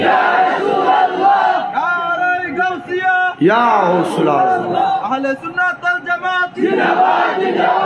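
A large crowd at a Bengali Islamic religious gathering loudly shouting takbir in unison, with repeated full-throated bursts of massed voices that rise and fall across the clip.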